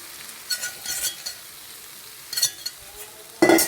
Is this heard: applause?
no